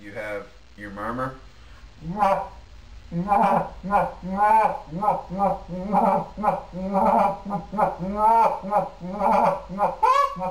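Low, soft murmur on a goose call, a steady stream of short throaty clucks and grunts, close and continuous with a slightly growly texture.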